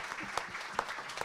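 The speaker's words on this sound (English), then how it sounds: "Can we give Just you a round of randomly. applause?" Audience applause at a songwriters' circle event, a short burst of clapping with a few sharper claps standing out, fairly faint and steady throughout.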